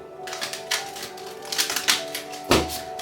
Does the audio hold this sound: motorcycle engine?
no